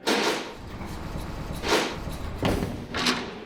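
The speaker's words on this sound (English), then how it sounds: "The sound of a jail door is deafening." Heavy jail cell doors in a prison close with several loud clanging slams, four separate metallic bangs spaced about a second apart, each ringing briefly before fading, with no talk.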